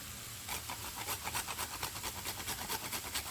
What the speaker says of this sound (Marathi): आपल्याला थोडंसं जायफळ किसून टाकायचं आहे।